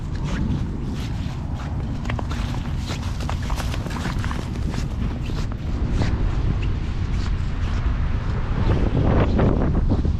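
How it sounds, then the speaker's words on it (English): Wind roars and buffets steadily across the microphone on a cold winter day by the Chicago River, a low rumbling gust that swells slightly toward the end, with no one speaking. "Nice and windy, nice and chilly"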